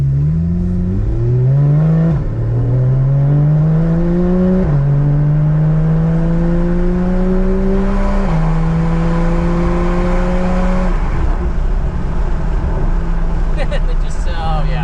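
A Porsche 991 engine pulls hard through several rising gear sweeps, each rev climb cut by a quick shift, loud and close from inside the car, with light road and wind noise underneath.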